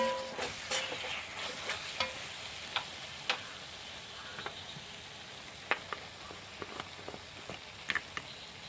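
Garlic and onion sauté in a pan for a roasted-coconut chicken curry, a low steady sizzle with scattered sharp spatula clicks and taps, heard close and alone.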